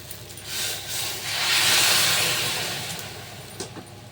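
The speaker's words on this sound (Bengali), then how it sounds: "এখন আমি জল ঢেলে দেবো। একটু উষুম গরম জল এখানে আছে" Warm water hits a pan of fried soybean curry, setting off a loud hissing sizzle that swells to a peak and slowly fades, close by with no talking.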